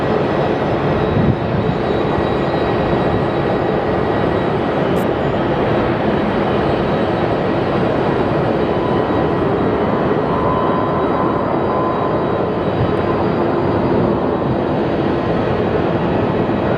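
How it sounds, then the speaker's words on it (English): Airliners taking off back-to-back from runway 26 at Phoenix Sky Harbor Airport, an American Airlines jet bound for Denver among them, make a steady, loud, continuous broadband jet roar that fills the whole stretch without pause. "we have an American Airlines going to Denver. So 2 back-to-back takeoffs from runway"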